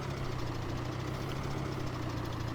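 A tractor engine idles in Farming Simulator 17, holding a steady, close mid-pitched rumble with a faint knocking pulse and no voices.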